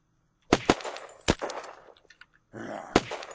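Gunshots from a recoil-heavy weapon in the Unturned video game, fired in sharp, loud bursts with several cracks close together and a final shot after a brief pause, each trailing off quickly.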